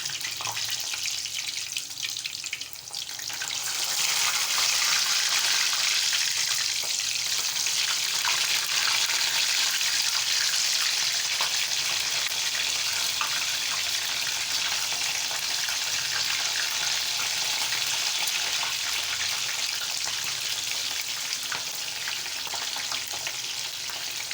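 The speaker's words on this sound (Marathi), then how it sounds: "मी हे चिरून घेतलेले भेंडे मी असे तेलात घालणार आहे आणि तळून घेणार आहे" Chopped okra frying in hot oil in a pan makes a loud, steady, close-up sizzle that swells after a quieter first few seconds and hisses on without a break, with no voices.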